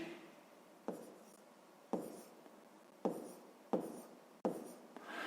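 Pen writing by hand on paper while working a fifth-grade math exercise on area units: five short scratching strokes at a steady pace, close and quiet, with no talking.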